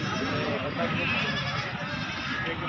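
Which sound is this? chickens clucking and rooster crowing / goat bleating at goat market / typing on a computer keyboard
goat bleating at goat market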